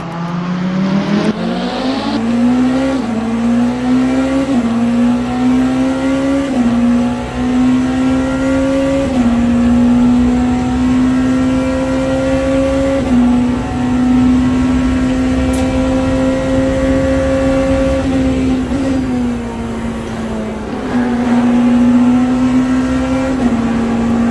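Hypercar race cars racing at Le Mans in the Le Mans Ultimate sim, a loud sustained engine whine that climbs and shifts through gears over and over, close and continuous with no talk.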